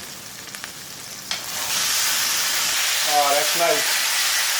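Beef ribeye steak sizzles loudly in a Lodge 10.25-inch cast iron deep skillet, a steady broadband hiss that swells after a couple of clicks and scrapes, with a brief spoken comment near the end.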